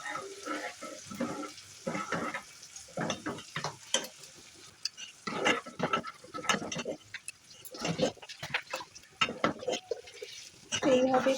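Nolen gur payesh, rice cooked in thickening milk with date-palm jaggery, is stirred continuously in a pot, giving repeated scraping, sloshing strokes at a steady pace, moderately close, with some talk over it.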